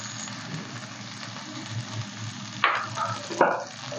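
Steady sizzling in a hot pan of fish thokku, then two sudden louder hissing bursts as water hits the heat, nearby and continuous.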